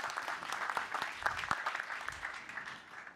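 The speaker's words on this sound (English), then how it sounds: "Big round of applause, please." Applause from a conference audience after a software engineering talk at a developer event, a faint, moderately dense patter of clapping with a few sharper individual claps, fairly distant.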